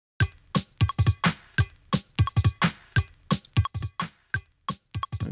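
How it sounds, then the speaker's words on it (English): A drum beat plays in a drum and bass production session, with punchy kicks and snappy snares in a loose, lazy groove repeating over a few bars and no voices. "Okay, there we go. We've got that beat."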